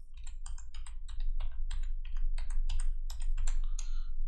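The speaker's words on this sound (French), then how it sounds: "Donc je tape mon mot de passe." Password being typed on a computer keyboard: a quick, irregular run of crisp key clicks, about a dozen or more strokes, close and clear with no talking.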